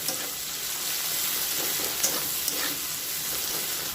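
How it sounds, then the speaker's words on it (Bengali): Two medium chopped onions fry in hot oil for a masala crab curry, giving a steady close sizzle with a couple of small pops and stirring sounds, alone without speech. "এবার আমি তেলের মধ্যে দিয়ে দিলাম মিডিয়াম সাইজের দুটো পেঁয়াজ কুচি। পেঁয়াজটা একটু ভালো করে ভেজে নেব।"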